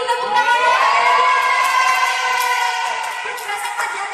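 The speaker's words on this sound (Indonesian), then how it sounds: "Tepuk tangan." A classroom of students breaks into loud, sustained applause mixed with children's cheering and shouts for a classmate, close and filling the room throughout.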